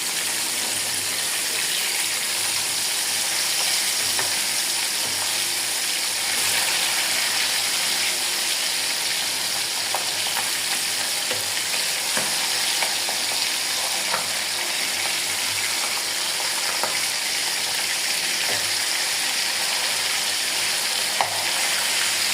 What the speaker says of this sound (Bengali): ইলিশ মাছগুলো ভালো করে কোয়া করে ভেজে নিতেছি।